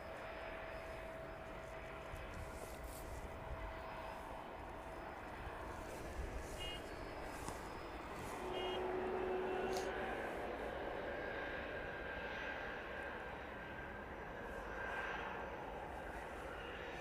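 An airliner taxis toward the camera along a taxiway at East Midlands Airport, a low, steady engine rumble that swells a little toward the middle, with scattered clicks and a brief tonal beep over the ambient hum.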